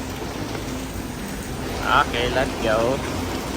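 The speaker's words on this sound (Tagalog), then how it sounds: "Lakas ng ulan." Heavy rain pours down steadily and close by, a constant wash of noise throughout, while a person speaks briefly partway through.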